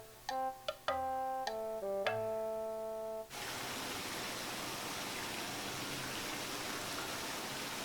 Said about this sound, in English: In the cave, Tom and the others found a waterfall unlike any they'd ever seen before, with shiny pebbles in the stream that flowed from it